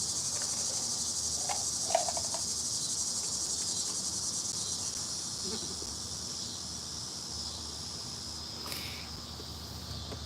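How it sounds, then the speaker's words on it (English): A steady, loud drone of cicadas buzzing continuously outdoors, with a few faint incidental noises and no talking. "Those are our cicadas."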